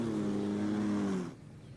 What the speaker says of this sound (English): And the car's being fired up